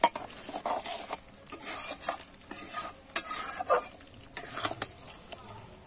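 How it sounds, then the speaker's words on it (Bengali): Pointed gourd poppy seed curry being stirred in a pan, with repeated scraping and clacking of a spoon against the pan over a light sizzle, close up and with no talking. "এবারে একটু নাড়িয়ে নেব ভালো করে সবকিছু।"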